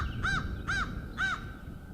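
A crow outdoors in spring caws three times in an even rhythm, clear and fairly close, over a steady low rumble of background noise.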